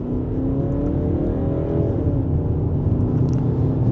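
A BMW X3 xDrive30i engine hums and gradually rises in pitch as it accelerates mildly in sport mode, second gear, a steady low drone heard from inside the cabin, with no one speaking.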